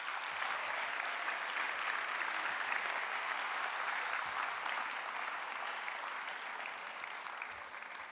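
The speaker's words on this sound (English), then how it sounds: "Give yourselves a round of applause," Graduates, parents and guests applaud at a school graduation ceremony, sustained, even and full clapping from a large crowd at moderate distance, with no voices over it.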